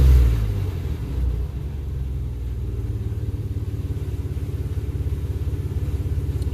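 A 1995 Chevy Blazer's 4.3L V6 idles steadily nearby with a deep, pulsing low rumble, a brief rev at the start settling into an even throb with no talk.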